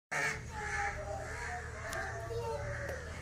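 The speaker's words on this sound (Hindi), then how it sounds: "कौवे जो है ना इतने ज्यादा बोल रहे हैं और चारों तरफ भाग रहे हैं" Crows cawing loudly and repeatedly around a village at sunrise, harsh calls rising over one another in a steady chorus, with faint children's voices in the background.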